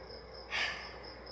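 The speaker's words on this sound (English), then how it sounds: "You hear the crickets or cicadas or whatever the hell that noise is" Insects drone at night beside a Mexico City lodging, a faint, steady high-pitched trill running continuously, briefly covered by a soft breathy puff near the middle.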